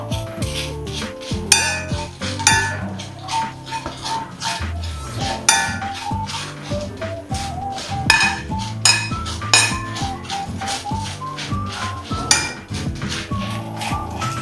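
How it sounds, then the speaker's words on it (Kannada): Spices dry roasted in a pan without oil for a country chicken sukka, giving steady clinking and scraping of a utensil against the pan, fairly close and with no talk. "Dry roast."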